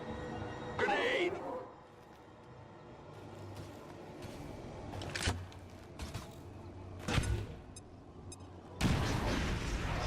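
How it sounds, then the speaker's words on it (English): An incendiary grenade goes off in XCOM 2, a loud burst followed by further booms and a roaring blast near the end, with voices talking between the explosions. "he can get us started with an incendiary grenade"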